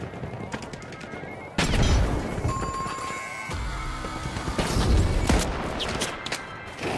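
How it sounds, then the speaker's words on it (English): Gunfire in the video game THE FINALS: rapid automatic shots rattle steadily, with sharper cracks and a louder burst partway through, close and dense, with a faint ringing tone running under it. "Getting shot from behind."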